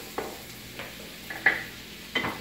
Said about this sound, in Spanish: Miren, ponemos a sofreír el ajo.